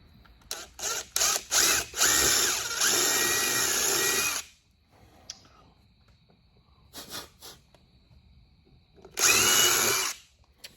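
A power drill boring a hole through a Jeep Gladiator brace, with several short trigger bursts followed by a long sustained whine, a quiet pause, a couple of brief blips and then another strong run.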